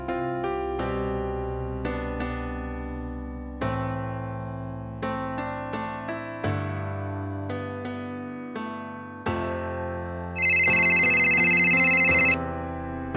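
A telephone rings inside the Roblox game Bloxburg: a steady electronic ring lasts about two seconds, sitting over continuous background music, with no voices.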